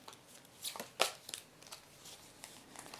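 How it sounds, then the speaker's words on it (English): Tarot cards are shuffled by hand during a reading, giving soft, quick papery riffles and flicks with a few sharper snaps, close and fairly quiet with no talking. "Keep shuffling. One more."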